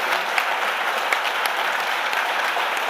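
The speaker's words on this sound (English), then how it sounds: "I just want a huge clap for Jacinta and Renee." An audience at a live in-conversation event claps for two guests, dense continuous applause that stays loud and even for a few seconds, with no talk over it.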